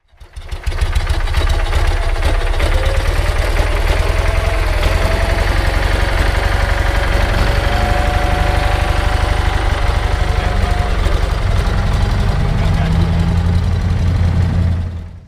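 A 1980 off-road vehicle engine idles steadily with a low, even rumble and faint mechanical ticking, heard close and continuous for about fifteen seconds with no talk.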